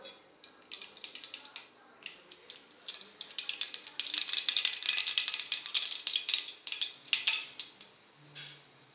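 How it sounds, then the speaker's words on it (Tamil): Mustard seeds crackle and spit in hot oil in a pan, a fast, close, irregular patter of sharp pops that builds to a dense burst in the middle and then thins out. "எண்ணெய் காஞ்சிருச்சு கடுகு போட்டுக்கலாம்"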